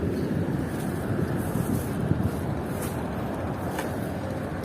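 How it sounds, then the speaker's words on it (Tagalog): Strong wind at sea buffets the microphone with a steady, loud roar, mixed with wave wash around a small fishing boat in rough water. "So binanatan tayo ng hangin."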